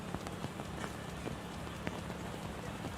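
Rain falls steadily during a criterium bike race in Tulsa's Arts District, Oklahoma, a dense, even patter on surfaces with scattered sharper drops and no voices over it.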